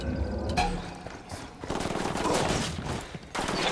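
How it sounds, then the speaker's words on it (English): Suppressed and unsuppressed gunfire in the Ghost Recon Wildlands video game: dense, continuous bursts of automatic shots and crackling fire fill the moment, loud and close with no speech. "I'm shooting these fuckers."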